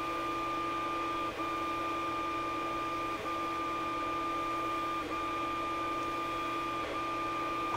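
A 3D printer builds support structures for drone parts, producing a steady, close electronic whine with soft stepper-motor tones and faint periodic clicks as the print head changes direction.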